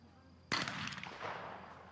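A single shotgun test shot at a trap shooting range in Osijek, Croatia, firing toward woods: one sharp, loud blast followed by a short echoing decay over quiet outdoor background.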